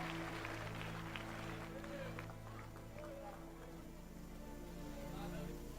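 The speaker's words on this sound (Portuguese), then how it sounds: "Os que podem, tomem o seu assento aplaudindo a Jesus" A church congregation applauds during a service, steady soft clapping blending with background music and a voice, heard faintly and at a distance.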